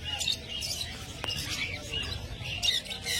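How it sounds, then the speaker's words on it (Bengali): Caged birds at the Garia bird market, including budgerigars and lovebirds, give scattered high chirps and short squawks over a low background rumble, moderately faint with no talk. "এরকম সুন্দর কোয়ালিটিফুল পাখি নিতে গেলে অবশ্যই আপনাকে গড়িয়া পাখির হাটে আসতে হবে।"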